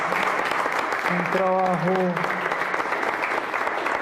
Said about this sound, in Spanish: Entonces, un aplauso para todos.